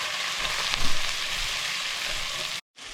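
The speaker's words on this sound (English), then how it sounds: "I'm going to add all at the same time the pepper, the onion and the mushroom" Pepper, onion and chicken of the woods mushroom sizzle loudly in hot oil, a steady bright hiss with a brief stirring bump near the start and a short cut near the end.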